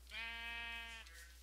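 A single sheep bleat from Minecraft, a clear sustained wavering cry lasting about a second, close and alone.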